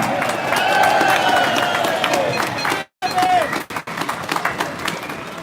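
Crowd at an outdoor political march clapping and cheering for a speaker, a dense burst of applause with a brief cut, voices calling over the noise.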